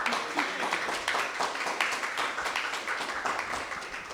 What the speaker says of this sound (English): I think we could have a round of applause for Katie.